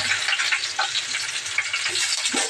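Green chillies and chopped onion pieces frying in a hot pan give a steady, close, loud sizzle with faint crackles and light stirring, and no voices are heard.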